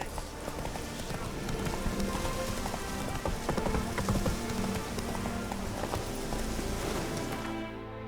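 Horse hooves clip-clop in a quick, steady rhythm while riding in The Witcher 3 video game, with a busy, rain-like wash around them and some game voices mixed in.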